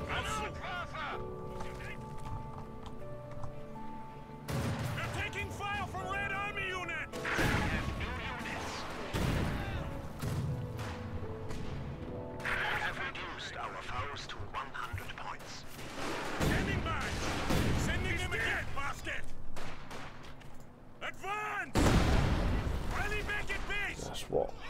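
Mortar fire and battle in the Company of Heroes 2 strategy game, repeated heavy booming blasts and impacts scattered through the clip amid background combat noise.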